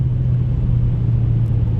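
A Renault Megane 1.3 TCe drones steadily with a low, even engine rumble and road noise heard from inside the car, with no voices.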